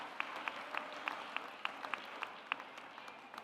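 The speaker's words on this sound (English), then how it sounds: "Let's give them a round of applause for their support" Sparse, scattered hand claps at a college of education graduation ceremony, a handful of people applauding for the graduates' families, fairly faint and distant, with individual claps spaced out rather than a dense roar.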